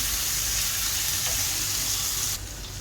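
A prawn curry base of onions with salt sautés in a pan, giving a dense, steady, close hiss of frying that drops slightly in loudness near the end.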